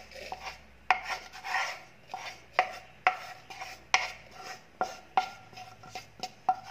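Roasted gram flour for Mysore pak is worked through a sieve, giving repeated scraping, rasping strokes with sharp taps against the rim, close and fairly loud, in an uneven rhythm.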